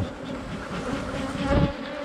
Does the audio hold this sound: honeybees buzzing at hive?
yes